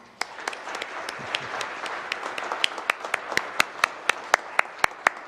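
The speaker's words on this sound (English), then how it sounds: "Should we give them a round of applause?" An audience at an award ceremony for the Order of Metropolitan Andrey Sheptytsky claps. Scattered applause settles into a few hands clapping in a slow, regular rhythm near the end.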